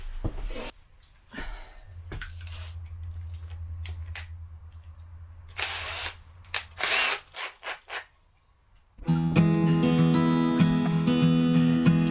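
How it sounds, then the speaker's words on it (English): A power drill whirs in short bursts with pauses between, drilling a hole in a campervan control panel, followed by a steady electronic tone with music-like sustained notes. "Then I'll just need to cut one more hole in it to run the cables for these."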